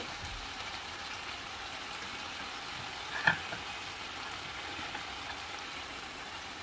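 Chicken and carrots stir-fry in a pan for a sandwich filling, giving a steady, moderate hiss of frying with one brief knock of a utensil midway.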